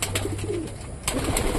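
Pigeons coo softly in a loft among a keeper's birds, low murmuring calls in the background under a steady rustling ambience, with no voices.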